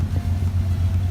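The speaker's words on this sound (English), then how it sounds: "there are dune buggies everywhere" Dune buggy engine in the Huacachina desert oasis, a steady low droning rumble close by with no voices.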